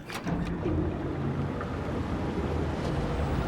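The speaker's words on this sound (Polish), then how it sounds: "Dobra, włączamy wodę." Water rushing and gushing steadily after being switched on in the video game Little Nightmares (The Depths DLC), a broad continuous wash with a few faint clanks, no talking.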